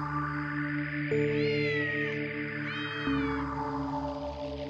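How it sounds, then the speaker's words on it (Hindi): An injured cat with bleeding, wounded legs gives two drawn-out, wavering meows, close and clear, over a steady low musical drone. "एक दिन कॉलेज से लौटते वक्त शौनक ने एक जख्मी बिल्ली को देखा।"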